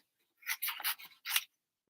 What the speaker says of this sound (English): And then I'm going to cut out this tree on this side.